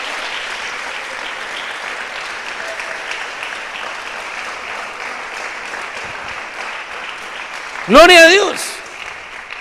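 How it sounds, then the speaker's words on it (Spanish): Applause from a church congregation builds as a steady crowd wash for about eight seconds while a voice speaks over it, and a loud sung or shouted phrase rises near the end. "Démosle ese aplauso al Rey."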